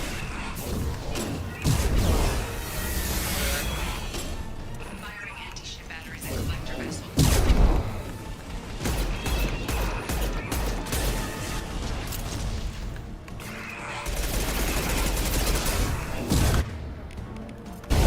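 Heavy weapon fire in the Mass Effect 2 video game, anti-ship batteries booming in repeated loud blasts and crashes over a dense, noisy battle backdrop, with voices talking beneath.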